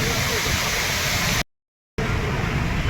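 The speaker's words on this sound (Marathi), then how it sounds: "हा आहे जवार फडफड धबधबा" A constant dense roar of the Jawhar waterfall at a dam in the monsoon fills the air, interrupted by a half-second cut to silence before resuming.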